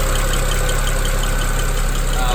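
A BMW car engine idles steadily at close range in the engine bay, a constant low rumble with a faint mechanical hum, with no break in the sound.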